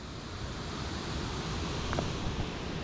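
Water pours over a spillway at a frozen winter lake, a steady broadband rush with the hiss of wind mixed in, constant and fairly close, with no voices.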